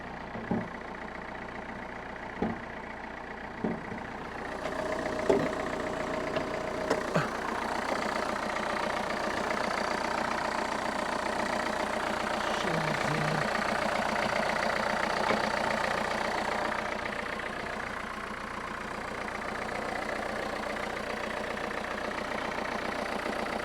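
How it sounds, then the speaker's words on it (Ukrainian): A Renault Kangoo 1.5-litre diesel engine idles steadily in a low, even rumble for the whole stretch, with a few faint clicks and knocks near the start. "От так виглядає двигун, як, як чуєте, працює чистенько."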